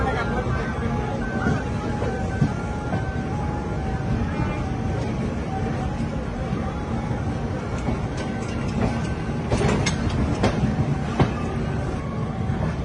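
The Bokaro Express runs between Vijayawada and Tenali with a steady loud rumble and rattling carriages, and the rail noise builds a little near the end, heard from inside the train.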